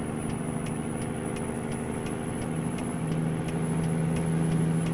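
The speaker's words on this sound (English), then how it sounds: "Listen to that engine." A truck engine in American Truck Simulator drones with a loud, steady low rumble and a faint rising tone, rhythmic ticking on top, with no talking over it.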